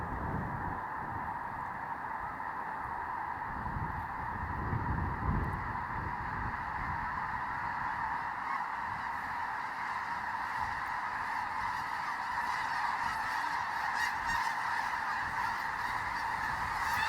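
Huge flock of tens of thousands of snow geese on a wetland unit, honking in a dense, continuous chorus as birds lift off, loud and sustained throughout, with bursts of wing noise.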